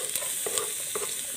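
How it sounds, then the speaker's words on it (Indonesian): Garlic hitting hot oil in a pan, a continuous bright sizzle with a few spatula scrapes and stirring knocks, close and unaccompanied by speech. "siapkan minyak panas, masukkan bawang putihnya"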